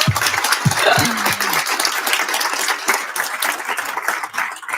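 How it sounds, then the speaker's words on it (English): An audience applauds a guest speaker at a spring speaker series event, with clapping of moderate density and a few voices mixed in near the start. "Let's give her a huge round of applause."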